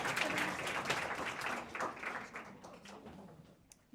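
Audience clapping in a hall at an Icelandic student gathering, a fairly dense patter of hands that thins and fades toward the end.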